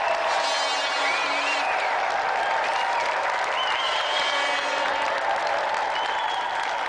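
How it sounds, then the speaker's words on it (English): Studio audience applauds special guest Gordon Burns on a games show, a dense, steady wash of clapping and cheering that holds for the whole stretch with no gaps. "So let's have another round of applause for our special guest tonight,"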